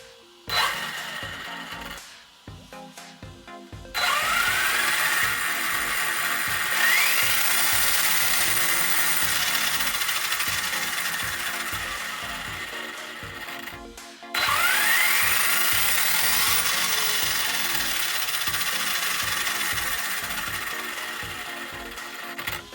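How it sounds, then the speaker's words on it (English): Arrma Outcast RC car on a test run after a tune-up, its electric motor whirring and whining up to speed in two long bursts with rising pitch sweeps, close and loud with no talk. "let's give her a test run and see if the wobbly factor has gone away"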